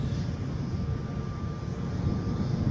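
A Brussels Airlines airliner in spotted livery rumbles as a steady, fairly distant low jet drone at Edinburgh airport.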